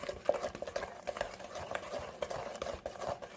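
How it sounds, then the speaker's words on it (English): Whole milk stirred into coconut custard pie filling, a quiet, close and steady rhythm of a utensil clicking and scraping against the bowl with no talk. "I'm adding in 2 cups of whole milk. Mixing this together."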